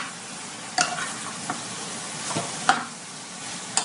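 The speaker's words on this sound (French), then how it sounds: "Là, je le mélange avec la cotis." Onions and pork chops stirred together in a dry pan before any oil goes in, with a few sharp spoon scrapes and knocks spread over a steady soft sizzle, close by.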